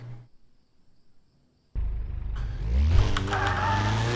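Car engine in the drifting video game Drift 21 on a Japanese track: after a quiet pause it kicks in suddenly and revs upward with rising pitch as the car accelerates hard, loud and close.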